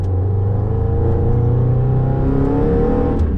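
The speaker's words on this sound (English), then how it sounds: "this crazy little Helmholtz resonator on the top, which actually pipes real but fake noise into the cabin" A continuous buzzy Subaru BRZ engine drone, intake noise piped into the cabin through a Helmholtz resonator, fills the space, loud and steady with a low, throbbing hum throughout.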